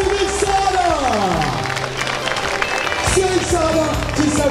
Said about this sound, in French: La première féminine, mesdames et messieurs, on va lui faire une ovation.